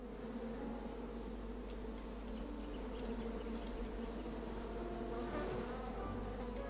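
Bees from a hive in the King's Quest game buzz in a steady, continuous drone, fairly quiet and unbroken, with no voices over it.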